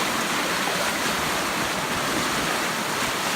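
Floodwater rushes past a bridge in a steady, loud, broadband roar of flowing water that continues unbroken throughout.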